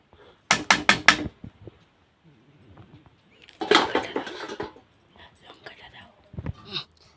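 Cauliflower roast is stirred in a pan with a spoon, giving a quick run of metallic scrapes and clinks, then more clatter between soft spoken remarks.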